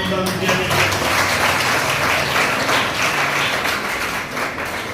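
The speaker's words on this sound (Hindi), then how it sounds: "ताली बजाओ।" Children at an excellence-school drawing-competition event applaud, a continuous, moderately loud patter of many hands with some voices audible beneath it.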